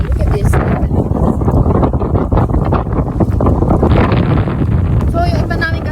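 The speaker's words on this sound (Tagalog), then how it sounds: "Ang lakas ng hangin." Strong seaside wind buffets the microphone in a loud, steady roar, with a voice speaking faintly beneath the gusts.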